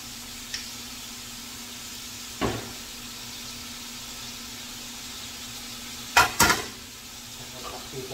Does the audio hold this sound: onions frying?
yes